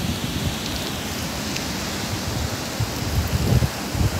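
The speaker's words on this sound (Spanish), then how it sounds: "La lluvia es pertinaz, constante." Heavy, constant rain from Hurricane Delta pouring over the seafront hotel zone of Progreso, a dense steady roar of downpour with no pauses and no voices.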